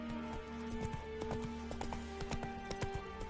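Hooves of Roach, the horse from The Witcher 3, clip-clop steadily at a brisk pace, close and fairly loud, over a humming game soundtrack.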